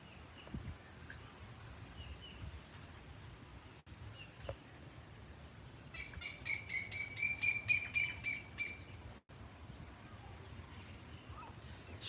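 A bird gives a rapid run of high, sharp chirps lasting about three seconds, clear and fairly close over a quiet outdoor background.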